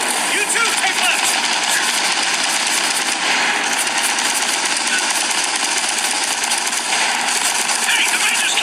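Gears of War 4 firefight at a machine gun nest, dense continuous automatic gunfire and explosions filling the scene without letup.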